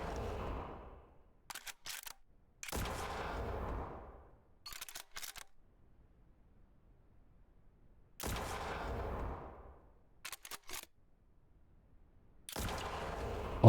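Sniper rifle shots in the space game SpaceBourne 2: four heavy blasts spaced apart, each ringing off in a long decaying tail, with short clicking bursts between them.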